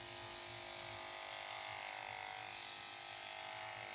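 An electric dog grooming clipper on its low setting, used on a Schnauzer, gives a steady, even buzz with a faint low hum running unchanged throughout, with no talking.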